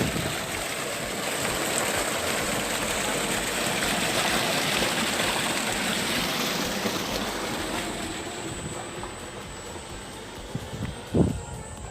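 Water gushes steadily from a solar-powered tubewell at a village farm, a continuous broadband rush heard up close with no voices and a brief thump near the end.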